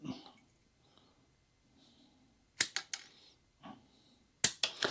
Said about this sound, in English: we're going to get our yellow wire out and cut it